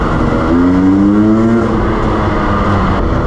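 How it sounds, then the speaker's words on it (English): A trail motorbike, ridden on Cornish green lanes with worn exhaust end-can packing, roars loudly inside a tunnel; the engine tone rises briefly as it revs, then holds a steady, echoing drone. "Best place to see how your bike sounds is this tunnel."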